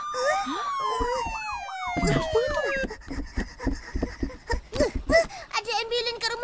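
An ambulance siren wails with a rising and falling pitch, fairly close, then fades as someone speaks.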